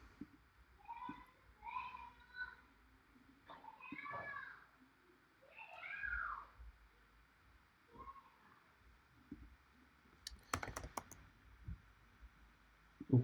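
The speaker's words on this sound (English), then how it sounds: "I'm clicking on something." A few quick computer mouse clicks come in a brief cluster near the end, after a stretch where a cat meows repeatedly in a quiet room.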